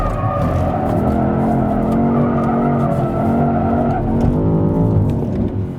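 A heavy 2,700 kg luxury hybrid SUV, a BMW XM or Aston Martin DBX 707, slides through hard maneuvers at the limit, its engine droning loudly and steadily with tire scrub and skidding throughout.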